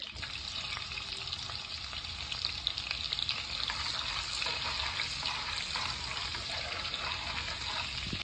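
Garlic frying in oil and butter for pasta, a steady, dense sizzle close by that holds at an even level throughout.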